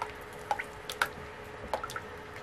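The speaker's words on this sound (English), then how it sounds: "So let's stir this up," A spoon works red and natural clay into soap batter with small wet clicks, drips and squishes scattered unevenly over a faint background, quiet and near, with no voices.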